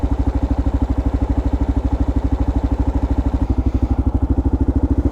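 A Kawasaki KLR650 single-cylinder motorcycle engine with a JD tuner kit idles with a loud, steady, fast thumping pulse close by, holding an even rhythm for about five seconds with no talking.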